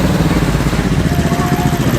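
Classic car engine at a car show and road run, idling with a rough, motorcycle-like throb, close and loud, with a voice speaking faintly beneath it.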